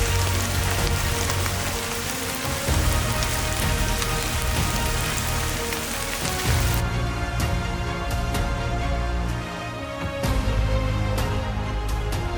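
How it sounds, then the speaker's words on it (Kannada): Light rain falls steadily outdoors on an excursion up to a viewpoint in Luxembourg, a continuous close patter with scattered louder drops and no voices. "ಸ್ವಲ್ಪ ಮಳೆ ಕೂಡ ಸ್ಟಾರ್ಟ್ ಆಗಿತ್ತು."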